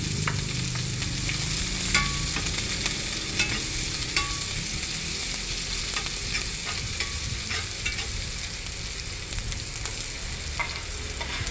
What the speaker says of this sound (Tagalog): ngayon magisa na tayo ng ating mga aromatics like garlic mince